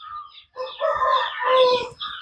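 A rooster with neck and body injuries crows close by in a loud, strained call broken into a few ragged bursts, with no talk over it.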